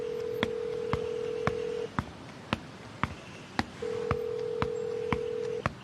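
A telephone is dialed, a series of sharp individual keypad tones tapped at a steady pace, with two long ringing tones sounding in between.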